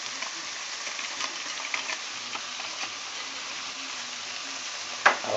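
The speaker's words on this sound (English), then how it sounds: "I'll let that cook down. Now that's cooking down real nice" Vegetables with Zatarain's seasoning cook down in a pan with a steady, even sizzle and faint ticks and pops, ending with one brief louder clack.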